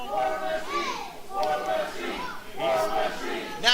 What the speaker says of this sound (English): They're all chanting War Machine, War Machine.